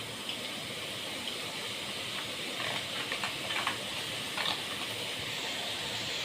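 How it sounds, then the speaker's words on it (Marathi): Boondi batter drips through a sieve into hot frying oil, making a soft steady hiss with brief bursts of crackling as the drops land. "चला मग आता बुंदी पाडून घेऊ"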